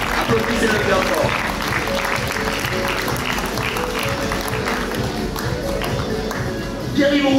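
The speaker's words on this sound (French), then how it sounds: "Applaudissez-le bien fort." Audience applause at a French conference on financialized capitalism, sustained clapping of moderate strength under a busy room with voices, swelling slightly again at the very end.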